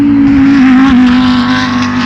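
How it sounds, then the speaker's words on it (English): An Audi R8 GT3 Evo race car's engine roars loudly as it passes close by at a circuit, one sustained, strong drone throughout. "I haven't heard a GT3 engine this year"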